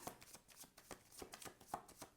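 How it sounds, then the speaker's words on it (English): Tarot cards being shuffled by hand, a faint, close riffling with soft irregular slaps and flicks and no talk. "Just another sound of shuffling."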